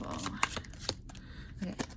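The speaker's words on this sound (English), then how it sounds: "One more shuffle." Tarot cards riffled and shuffled in quick, crisp bursts close to the mic, a short run of sharp flutters and taps with a speaking voice nearby.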